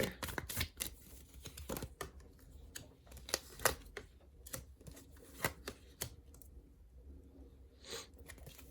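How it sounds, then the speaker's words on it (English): Tarot cards shuffled and pulled from a deck, a run of crisp, close flicks and slaps in uneven bursts, busiest early and trailing off into sparse taps, with no talking. "Let's pull out a few more cards and see though."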